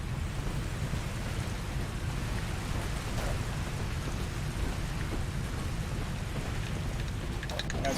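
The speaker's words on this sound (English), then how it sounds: "The storm is getting really bad outside." Steady rain from a thunderstorm outside, with low rumbling thunder running underneath, a continuous broad wash throughout with faint speech-like sounds mixed in.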